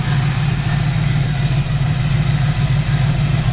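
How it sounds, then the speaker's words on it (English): A 1973 Camaro Z28 V8 idles steadily and loudly close by, a deep, even low rumble with a constant mechanical hum and no talking. "Motor runs excellent."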